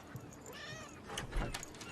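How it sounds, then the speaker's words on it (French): A cat left outside meows a few times, plaintive and moderately faint, over a quiet background. "Je crois qu'il y a votre chat qui est dehors aussi."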